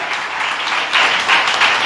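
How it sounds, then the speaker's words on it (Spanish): A church congregation applauds during a sermon, with sustained dense clapping that swells louder partway through. "Denle un aplauso al Señor."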